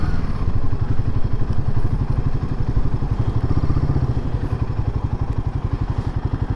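A Royal Enfield Himalayan 450 motorcycle under way, its engine a steady, close, throbbing rumble with rapid even pulses that holds throughout, with no talking.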